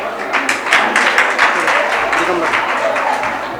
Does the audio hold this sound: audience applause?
yes